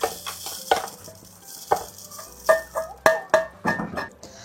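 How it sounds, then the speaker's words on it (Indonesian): Spices for Coto Makassar are dry-roasted in a pan until brown, with a spatula scraping and stirring in quick, uneven strokes close up, accompanied by light crackling and occasional knocks against the pan. "Sangrai sampai berubah warna kecoklatan."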